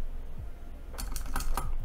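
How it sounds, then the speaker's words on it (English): A short command is typed on a computer keyboard: after a quiet moment, a quick cluster of close key clicks follows, lasting under a second. "So let's type in sudo nano"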